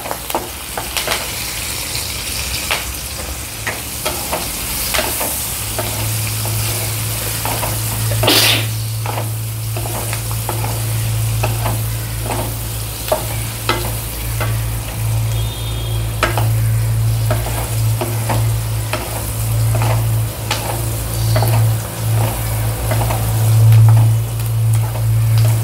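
Onions fry with turmeric and curry leaves for dahi misal, giving a loud, continuous sizzle in the pan with scattered crackles and occasional stirring clicks throughout. No one speaks.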